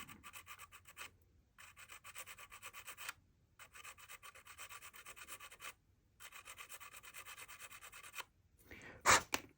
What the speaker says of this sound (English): I'm going to start with the sandpaper.